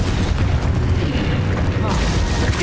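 An Expulso explosion spell goes off in the Hogwarts Legacy video game as a heavy, loud boom with rumbling low-end roar that swells and holds, with a voice speaking over the blast.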